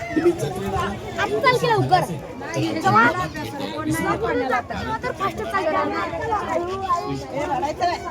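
A crowd bustles at a busy village temple fair, many voices chattering and overlapping close by in a continuous, lively babble.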